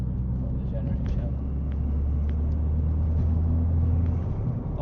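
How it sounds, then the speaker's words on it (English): A Ford Fiesta ST Mk7 engine gives a steady, close, loud low drone of induction noise that holds through the whole stretch, with a faint voice beneath it. "That induction noise, mind."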